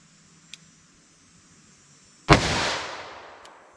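A .357 Magnum revolver firing Federal HammerDown ammunition at a target about five yards away gives one sharp loud shot with a lingering outdoor decay after a quiet stretch, plus a couple of faint distant clicks.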